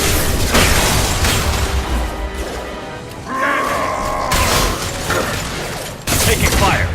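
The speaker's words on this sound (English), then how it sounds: "Firing an impact shot." Impact shot fired in the Mass Effect 2 game, dense, loud bursts of heavy weapon fire with mechanical clatter and booming hits, one sharp blast breaking in near the end amid ongoing combat noise.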